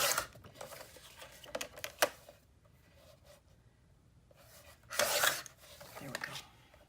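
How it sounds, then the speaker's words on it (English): A paper trimmer cuts rounded corners off paper tags for a mini album, giving a few short scraping, rasping slices with quiet pauses between them, close and fairly soft. "So I want to trim the rounded corners at the other end also."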